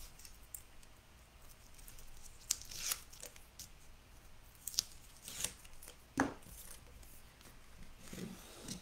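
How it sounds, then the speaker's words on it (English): Tape peels in short, faint ripping bursts from the flap of a paper recipe folio, the quiet tears spaced irregularly against a low room hush. "the last side where the flap goes over, take that tape off"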